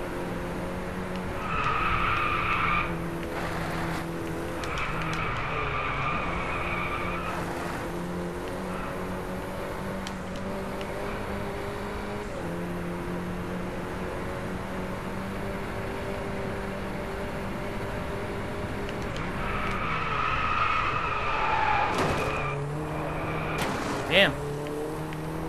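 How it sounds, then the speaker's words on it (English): A video-game Audi races along, its engine droning steadily while tyres squeal and skid in bursts near the start and again toward the end, with someone talking over it. "I'm just cruising with my Audi."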